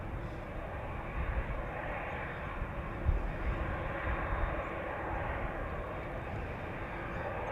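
A jet airliner taxis at Amsterdam Schiphol Airport, a steady engine roar and broad rumble holding at an even loudness throughout, moderately near, with no talk.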